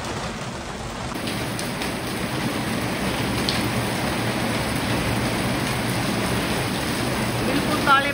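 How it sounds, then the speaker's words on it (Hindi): Heavy rain with hail pouring down under dark clouds, a constant dense hiss and patter that stays even and loud throughout with no speech. "बारिश के साथ साथ ओले भी पड़ रहे हैं"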